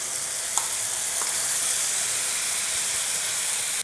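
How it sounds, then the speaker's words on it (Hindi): Garlic chutney sizzles steadily in hot desi ghee in a pan, a continuous bright frying hiss with a couple of small pops, close and even throughout. "घी डालने के बाद मैं इसमें डाल देती हूँ ये चटनी।"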